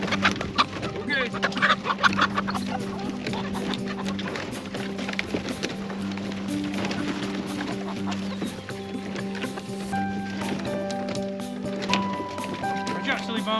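Farm chickens cluck and squawk in a coop, a busy, continuous chorus of hens close by with a steady low hum underneath and occasional louder calls throughout.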